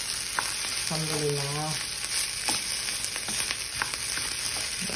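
Nasi goreng (fried rice) being stirred in a hot frying pan, with a steady close sizzle and scraping stirs throughout and a brief voice speaking once in the middle.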